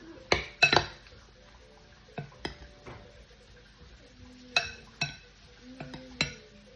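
Crumbled feta salad mixed in a bowl, heard as scattered clinks and knocks of a utensil against the dish with soft scraping between them, close and fairly quiet, with no talking.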